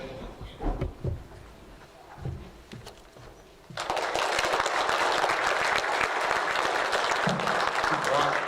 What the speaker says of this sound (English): Seems a bit funny up here, giving out awards and only a few students applauding